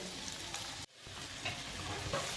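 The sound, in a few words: onions browning in hot oil in a pan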